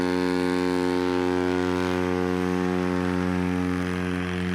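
The propeller engine of a Carbon Cub light bush plane drones at takeoff during a STOL demonstration at an airshow. It makes a loud, steady buzzing tone that holds level and eases slightly near the end, with no voices.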